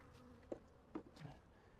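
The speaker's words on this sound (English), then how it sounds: "The bees are a little annoyed with me." Honeybees buzz around an opened hive during a hive split: a few quick, close buzzing passes over a quiet background.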